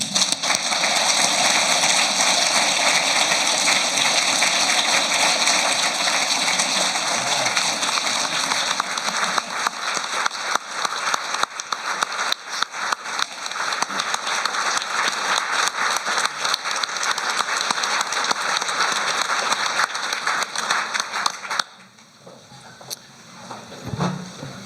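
Audience at a corporate employee awards show applauding for Randy, a loud dense sustained round of clapping that thins into scattered claps before stopping abruptly near the end.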